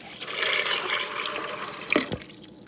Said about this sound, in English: I have 3 cups of water that I'm going to add.